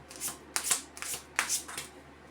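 Tarot cards are shuffled by hand in several quick riffling bursts, close and fairly faint, with short pauses between them.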